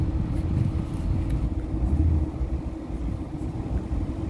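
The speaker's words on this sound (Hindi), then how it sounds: "गाड़ी को मैं अब स्टार्ट कर देता हूँ। गाड़ी अब स्टार्ट हो गई।" A Ford Figo running on CNG idles steadily after starting, a low, even engine rumble continuing alone without talk.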